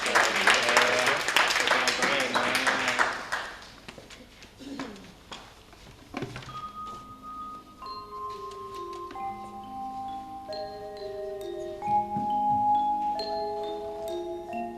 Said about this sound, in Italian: Un forte applauso per il bambino, grazie mille.